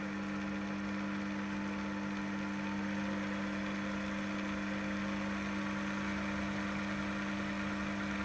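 A Proxxon PD 250E lathe motor runs with a steady, continuous hum, close and unbroken, a constant mechanical drone with no voices.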